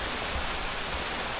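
A river or stream flowing at a rural spot in Barangay Caoayan, Pangasinan, heard as a steady, moderately loud broadband rush of water that stays even throughout with no talk over it.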